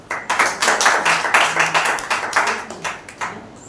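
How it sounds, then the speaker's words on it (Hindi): Church congregation at a Wednesday service clapping loudly in a fast, rhythmic pattern of sharp, close claps that repeat evenly for several seconds, with no talk over them. "एक जोरदार ताली बजाइए।"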